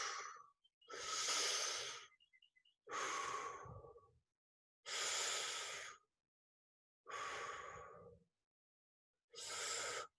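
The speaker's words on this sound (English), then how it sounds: "So that's the action of breathing." Deep, slow breathing demonstrating the diaphragm: six long breaths in and out, each a loud airy rush separated by silence, close and alone with no talk.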